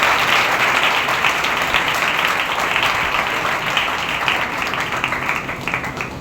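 A church congregation at a Thursday healing meeting applauds with dense, loud, sustained clapping that fills the space and fades slightly near the end.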